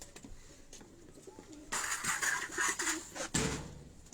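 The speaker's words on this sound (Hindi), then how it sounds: "ये दोस्तों पहला कबूतर है बिलाल अवान साहब का" Pigeons coo close by in a loft, soft throaty rolling calls that swell over a few seconds amid light room background noise.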